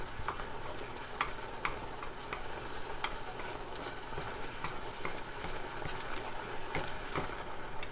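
Cheese powder being stirred into a cooking dish, a steady soft scraping and stirring texture with faint sizzle and scattered light ticks of utensil against pan, close and continuous throughout.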